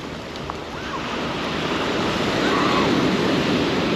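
Steady wind roar at a Martinique beach rushing across the microphone, with broad surf-like noise swelling slightly louder toward the end.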